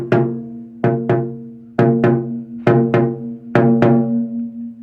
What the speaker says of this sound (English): this is a non-traditional Celtic style bodhrán